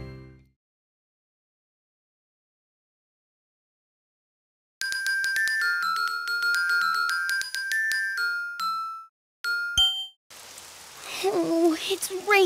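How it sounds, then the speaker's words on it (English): A bright chiming melody plays, then a short burst of pattering rain follows near the end. "Oh, it's raining outside."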